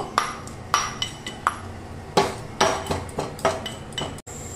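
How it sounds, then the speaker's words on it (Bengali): Cardamom pods are crushed for cooking dal makhani, with a series of sharp, irregular clinking knocks of a hard tool striking a metal surface up close, each hit ringing briefly before the next. "এবার আমি এর মধ্যে কয়েকটা এলাচ থেঁতা করে নেব"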